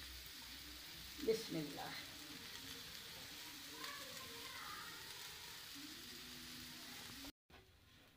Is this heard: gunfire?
no